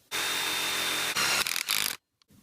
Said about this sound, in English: Using my trusty impact driver and metal tech screw again.